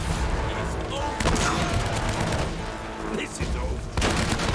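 Bursts of gunfire from a cover-shooting firefight in Uncharted: Drake's Fortune, sharp volleys with short breaks, with someone talking over them.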